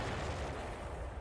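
Fireworks going off inside a barn in a cartoon, a dense loud burst of crackling blasts and rumbling booms filling the whole moment without pause.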